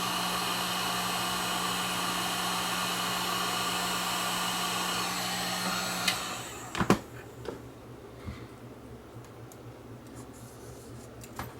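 A heat gun blows hot air onto the head drum of a faulty Tascam DA-P1 portable DAT recorder, a steady close whooshing roar with a faint whine that cuts off partway, followed by a few small clicks and handling knocks.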